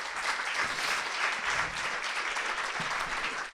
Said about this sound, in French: Je vais vous demander de les applaudir, s'il vous plaît.